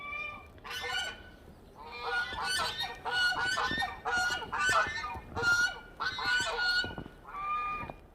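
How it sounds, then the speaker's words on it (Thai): Geese honk loudly outdoors on a snowy morning, with repeated nasal honks overlapping in bursts and short pauses between them, close and continuous throughout. "เราจะได้ยินนะคะเสียงห่านนะคะเพื่อนๆ"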